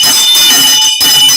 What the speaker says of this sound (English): Let me ring a bell for all them girls from Barbies.